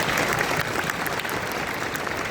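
An audience at the Young On Top National Conference 2023 applauds for Pak Yosef, a loud, dense, sustained burst of clapping filling the hall without pause.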